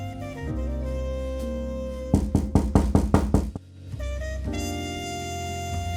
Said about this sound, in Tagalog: Nagulat si Selma nang may kumatok sa pinto.